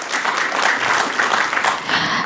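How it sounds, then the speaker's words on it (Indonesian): Audience applause fills a hall at the Anugerah Penggerak Nusantara 2025 awards ceremony in Indonesia, honouring minister Zulkifli Hasan: dense, steady clapping from a sizeable crowd, close and fairly loud throughout. "Berikan tepuk tangan dong untuk beliau."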